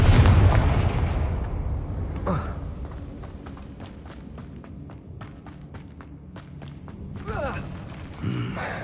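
A Confringo fire spell blasts in the Hogwarts Legacy video game, a loud burst at the start that fades over a couple of seconds, followed by quieter footsteps and clicks.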